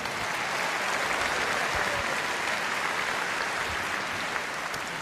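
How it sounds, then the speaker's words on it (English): Steady, dense applause fills a conference hall during a Reform party event, holding at an even, loud level throughout with no break and no voices rising above the crowd. "please give a round of applause to everyone who is working so hard in Scotland, in Wales, and across the United Kingdom"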